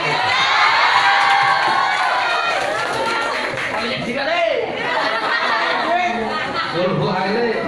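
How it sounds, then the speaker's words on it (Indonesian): A crowd at an internet-safety outreach event cheers and shouts for a quiz winner, a loud burst of cheering mixed with excited children's voices, chatter and laughter that fades into general crowd noise. "tepuk tangan untuk teman kita"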